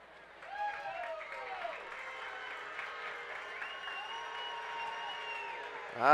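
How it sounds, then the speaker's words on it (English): Fans on the Downingtown sideline at a high school football game against Coatesville cheer and clap steadily at moderate distance, with an announcer's voice running over the crowd noise and a sharp loud burst at the very end. "The crowd's coming to life on the Downingtown sideline now"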